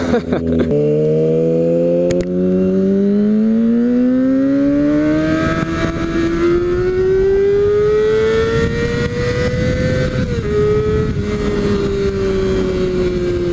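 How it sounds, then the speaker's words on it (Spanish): A Kawasaki Ninja ZX6R sport motorcycle engine revs up and climbs in pitch as it accelerates, holding a loud, continuous high-revving whine throughout, with no voices. "vamos a probar esta belleza de motocicleta"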